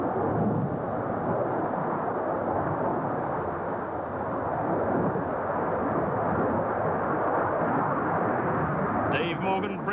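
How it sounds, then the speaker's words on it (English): A Sea Harrier jet with a Pegasus vectored-thrust engine slows for a short landing at an air show, a loud continuous roar that stays steady throughout. "he slows down now for a short landing, transitioning from purely wing-borne flight to partly engine-borne flight by adjusting the vectored thrust from his Pegasus engine"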